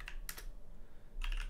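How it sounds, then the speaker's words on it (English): A few quick keystrokes on a computer keyboard type a command, sharp close clicks in two short bursts separated by a quiet pause. "the second way is of course typing Python"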